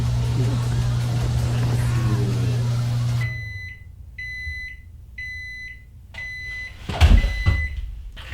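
A microwave oven hums steadily while melting brownie mix, then stops, followed by a series of high beeps and a clunk of the door, with a voice speaking around it.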